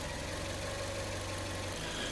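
A car engine idles steadily at close range with a constant low hum and faint rhythmic pulsing as the fuel trim is being adjusted, with no voices.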